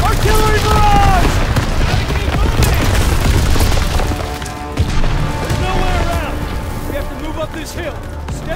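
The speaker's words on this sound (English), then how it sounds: "Artillery barrage!" Artillery barrage explosions in the Call of Duty WW2 video game during the Hill 493 mission, loud continuous booms and blasts filling the scene, mixed with shouting soldiers and battle noise throughout.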